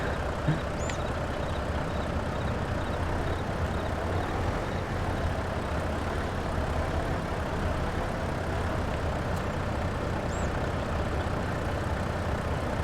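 A Volvo truck in Farming Simulator 22 idles steadily for the whole stretch, a constant low engine rumble with no talking, broken only by a couple of brief faint high beeps.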